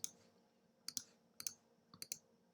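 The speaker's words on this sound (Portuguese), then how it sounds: "Dou 2 cliques nele, ó, e eu consigo editá-lo" Computer mouse clicked in quick double-clicks, four crisp sharp pairs of clicks spaced about half a second apart, close and quiet in otherwise silent surroundings.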